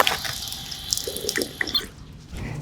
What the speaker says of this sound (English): A water fountain. I'm thirsty. I'm going to get a drink.